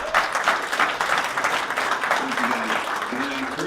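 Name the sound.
audience applause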